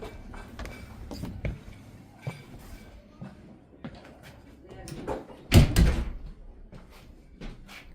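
A door opens and bangs shut at a tattoo studio beside a coffee shop, one loud close knock among footsteps and handling noises. People talk throughout.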